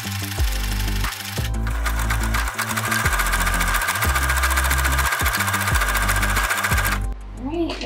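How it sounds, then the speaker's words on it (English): Sewing machine zigzag stitching along pillowcase edges, a loud close mechanical whir in bursts with brief pauses between runs. "we're just gonna go ahead and finish with a zigzag stitch"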